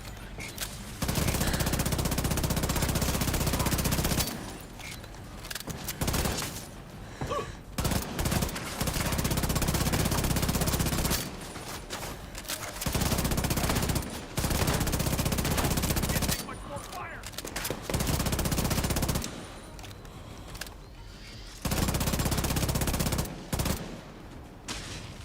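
Turret gunfire in The Division 2, long sustained bursts of rapid automatic shots separated by short pauses, loud and repeated across the stretch with some voice underneath.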